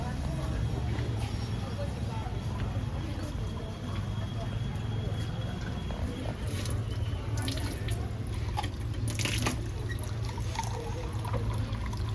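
Cold drinking water running from a tap, a steady stream with some dripping and pouring sounds throughout, while a voice talks over it.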